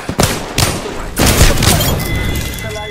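Gunfire in the video game Apex Legends: sharp, loud bursts of shots and booming impacts in quick succession, with a game voice speaking over the clatter.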